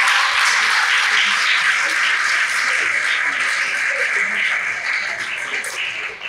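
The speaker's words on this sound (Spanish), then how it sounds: "Un aplauso, por favor." Audience applauding at a book presentation during a colloquium on dramaturgy, a sustained, fairly loud and dense clapping that holds steady and begins to thin near the end.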